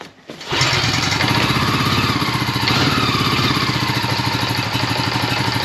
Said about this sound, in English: Let's see if the old pull starter works.